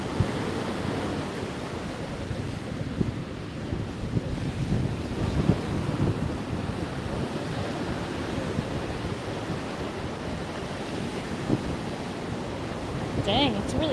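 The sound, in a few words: strong wind at the beach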